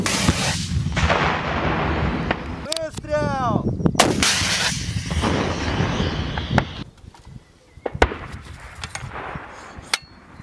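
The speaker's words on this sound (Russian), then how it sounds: "Выстрел!" Several loud, sharp gunshots from a Soviet-made military weapon fired by Ukrainian soldiers crack out at irregular intervals, each with a booming echo, over a noisy outdoor background.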